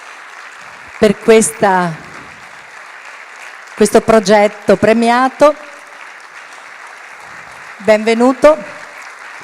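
An audience at an architecture award ceremony in an auditorium keeps up a steady bed of applause while a presenter speaks over it in short bursts.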